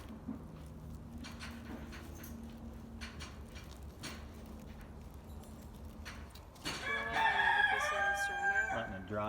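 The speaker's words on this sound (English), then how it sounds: "Not sure I need that rooster in my video, but it makes it authentic." A rooster crows nearby, a loud drawn-out cock-a-doodle-doo rising out of faint background clucking and low ambient noise near the end.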